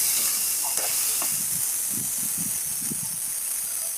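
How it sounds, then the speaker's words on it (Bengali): Dried hilsa fish and spices frying in oil and being stirred, giving a steady bright hiss with soft scraping stirs repeating through the middle and end. "দিয়ে দিলাম, নেড়ে চেড়ে ইলিশের শুটকি মশলাগুলো কষিয়ে নেব।"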